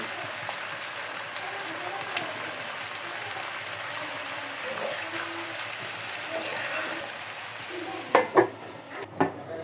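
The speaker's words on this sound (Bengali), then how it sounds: "সুন্দর করে আমি লেড়ে দিব, লেড়ে মিশিয়ে নেব।" A spatula works salted, chopped ingredients around a frying pan under a steady hiss of cooking, with a few sharper scrapes and knocks of the utensil near the end.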